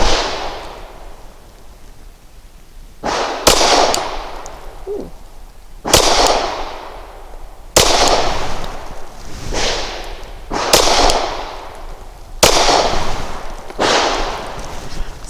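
A Glock 19 pistol fires about seven sharp, loud shots at irregular intervals of one to three seconds. Each crack is followed by a brief echoing tail, and no one speaks.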